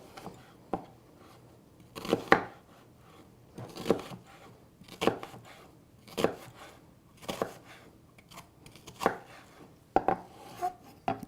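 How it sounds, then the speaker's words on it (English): A kitchen knife cuts food on a board in about a dozen separate crisp chops and slices with pauses between them, close and fairly quiet. "And we're going to slice that."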